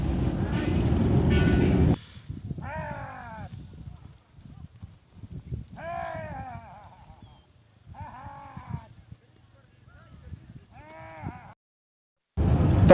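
Goats bleat in short wavering calls in open farmland beside crops threatened by a locust swarm, several cries spaced apart at moderate distance, with a loud burst of other noise at the start and end.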